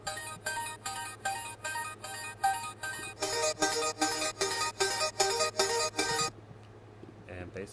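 A higher-pitched octave pluck synth part for a K-pop style Logic Pro X production plays as a steady, rhythmic run of bright plucked notes for about six seconds, then stops, leaving near silence.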